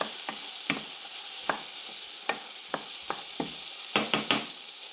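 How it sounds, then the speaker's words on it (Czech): Apples caramelizing in a frying pan are stirred, the spoon scraping and knocking against the pan in irregular strokes over a soft steady sizzle, close and without talk. "Jabka už mám na pánvi a míchám přibližně 2 minuty, aby tak trošku jakoby skaramelizovaly."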